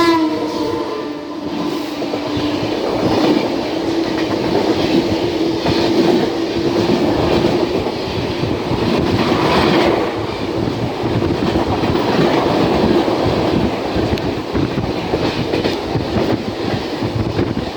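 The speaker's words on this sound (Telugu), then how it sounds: "కాంగ్రేలి స్టేషన్ నుంచి డిపార్ట్ అయ్యి వెళ్ళిపోతుంది ట్రైన్." A Mumbai local train pulls away from Kongreli station and rolls on, a steady loud rumble of wheels and carriages with a brief horn near the start and no voices.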